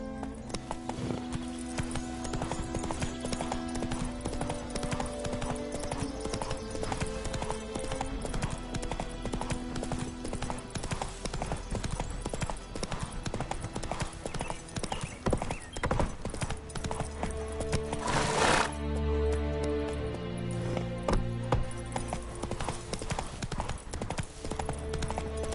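Roach, a horse in The Witcher 3 on PS5, galloping with steady rhythmic hoofbeats over a continuous bed of game music, with a brief sharp sweep partway through and a faint whinny.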